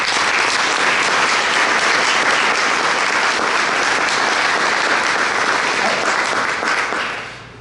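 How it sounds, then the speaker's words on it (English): Business association awards-event audience giving a long round of applause for its leadership team, loud dense clapping sustained for several seconds before tapering off at the end. "we owe them a huge round of applause."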